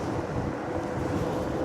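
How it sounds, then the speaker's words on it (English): Wind buffets the microphone of a Ridstar Q20 electric bike while riding, a steady, loud, broadband rushing roar that fills the whole stretch with no voices. "That wind is horrible."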